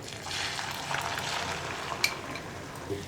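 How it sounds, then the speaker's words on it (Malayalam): Beaten egg hitting hot coconut oil in a pan, making a soft, steady sizzle with a faint clink near the middle, fairly quiet and close, with no voices. "നമ്മുടെ വെളിച്ചെണ്ണ ചൂടായിട്ട് നമുക്ക് മിക്സ് ചെയ്ത് വെച്ചിരിക്കുന്ന മുട്ട ഒഴിച്ചു കൊടുക്കാം"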